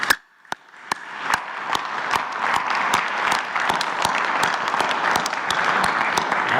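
Applause for athletes at a presidential morning press conference, starting with a few sharp isolated claps that quickly build into steady group clapping, with individual louder hand claps standing out at a regular beat.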